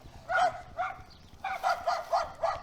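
Local dogs outdoors near a canal in Abergavenny, Monmouthshire, bark in a run of about seven short, sharp woofs with a brief pause partway through, fairly close and clear.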